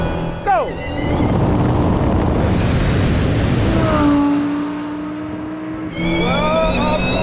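An Audi R8 and an Audi RS Q e-tron accelerate hard in a drag race from a 50 mph rolling start in second gear, the engine note climbing in loud, close sweeps and dropping with each gear change before rising again.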